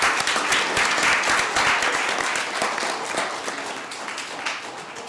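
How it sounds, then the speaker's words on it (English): Audience at the close of the YAC 2019 talk show giving a round of applause for participants, dense clapping from a crowd at steady volume that tapers slightly toward the end. "Can I get a round of applause for those?"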